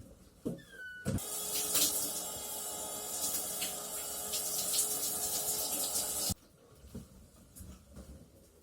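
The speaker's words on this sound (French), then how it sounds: "Je vais quand même taper ma douche." Shower water runs in a steady, loud broadband hiss for about five seconds, starting abruptly and cutting off just as sharply, with quieter room sounds before and after.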